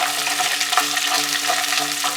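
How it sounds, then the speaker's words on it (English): Onions sautéing in hot oil for Ethiopian-spiced green beans, a close, steady crackling sizzle with soft stirring scrapes throughout and no talk. "And then in go the onions. That's the sound you want."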